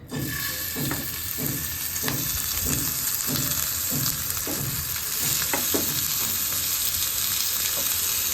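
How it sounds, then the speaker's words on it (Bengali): Adana kebab frying in a little oil, a loud continuous sizzle with rhythmic bursts of spattering roughly every half second, close up and without talk. "অল্প তেলে 1 মিনিট করে 2 পাশে 2 মিনিট দিয়ে ভাজলে হয়ে যায়।"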